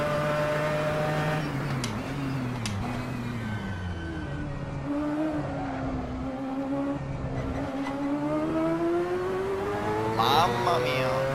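A car accelerates hard with a loud, close engine roar whose pitch climbs steadily over several seconds, briefly easing before rising again.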